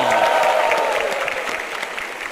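Applause from the audience at a televised stand-up comedy show, a dense burst of clapping that starts loud and slowly tapers off over a couple of seconds.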